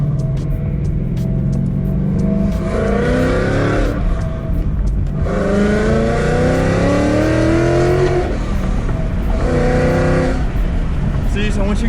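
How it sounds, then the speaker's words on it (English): A straight-piped Ford Mustang GT accelerates hard, its exhaust valves opening into a loud rising engine roar through repeated gear pulls, with a person talking over it. "I'll get on it a little bit and kind of let you hear those valves opening up"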